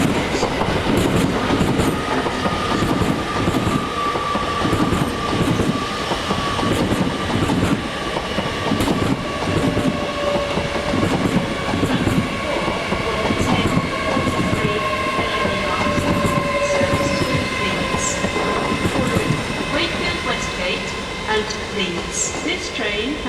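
A train passing through Doncaster station makes a continuous loud rumble with rhythmic wheel clatter and a few sustained tones for over twenty seconds.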